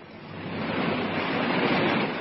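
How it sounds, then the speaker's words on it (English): A radio drama effect of hundreds of logs sweeping down a river: a steady, broad rushing roar that swells slightly and holds at full strength, with no voices. "they listen to the sounds of advancing destruction as hundreds of logs sweep down the river"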